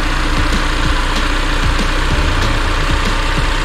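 An original, unmodified engine in a 1990 Honda Civic EF hatchback with about 135,000 miles runs at a steady idle, close and fairly loud, with an even ticking pulse and no talking over it.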